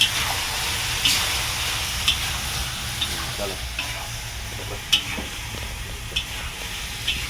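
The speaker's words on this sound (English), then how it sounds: "Give it another good stir." Bitter gourd stir-fries with tau see and chili in a hot pan, a loud continuous sizzle broken by sharp scraping clacks of the spatula as the mix is stirred about once a second.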